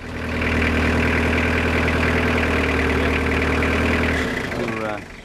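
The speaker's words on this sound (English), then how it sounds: "drive the vehicle forward until it comes up and stands on the vehicle" A military vehicle's engine runs loud and steady as the vehicle drives forward onto a wood block under the front tyre, its drone dropping away near the end.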